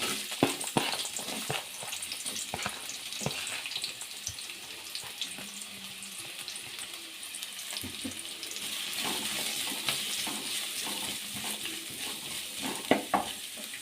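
Two chopped onions fry in four tablespoons of oil for chicken fried rice, giving a continuous close sizzle with scattered crackles and stirring clatter.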